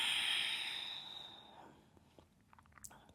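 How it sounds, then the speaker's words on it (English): A person exhales slowly through the mouth during a breathing exercise, a close, soft hissing breath that fades over about two seconds into near silence. "exhale."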